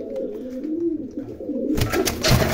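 Pigeons coo in low, rolling calls heard close up, followed by a burst of wing flapping and rustling as the birds are handled or caught.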